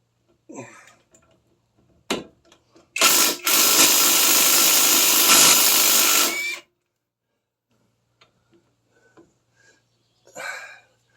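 On a Ford Escape during a front brake job, an impact wrench works on tight brake caliper bolts in one loud, close burst of about three and a half seconds. Scattered faint clunks and handling noises come before and after.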